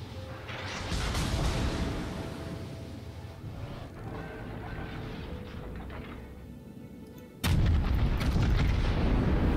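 Artillery-like booms and shell impacts from high-explosive rounds hitting a tank in a naval-style combat video game, steady rumbling background with a sharp louder burst near the end.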